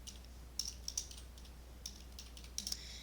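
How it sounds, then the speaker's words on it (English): Fingers tapping numbers into a calculator: a few faint, sharp clicks in small clusters with pauses between, quiet and close against a low hum. "And then let's type this into my calculator."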